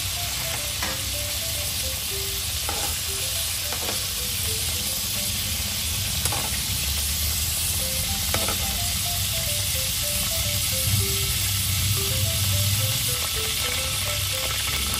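Chicken liver sizzles and spits steadily in a hot pan, a constant close frying hiss with faint background music and no talk over it.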